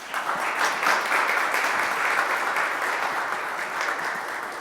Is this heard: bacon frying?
no